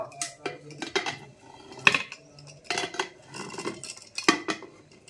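A metal pressure cooker holding an eggless semolina cake is opened. Close, sharp metallic clanks and scrapes of the lid and pot come in several irregular hits, with no talk.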